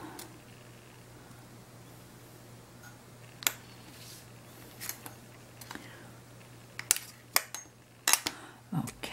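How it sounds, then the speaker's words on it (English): A blade slicing the ends off a black and white basketweave polymer clay cane, with sparse sharp clicks and taps scattered over a faint hum, growing busier toward the end. "Let me cut the ends off."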